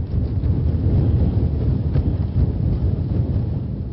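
Strong wind sweeps across a seaside seaweed (laver) farm, a steady, loud, rumbling roar that buffets the microphone throughout, with no voices.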